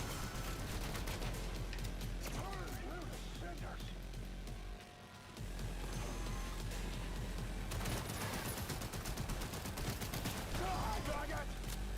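Continuous gunfire in Cyberpunk 2077, with dense rapid shots layered over a heavy low rumble and game sound, nearly constant apart from one short lull. A voice talks over it.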